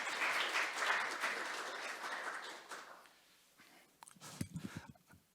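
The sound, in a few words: audience applause at a regional investment briefing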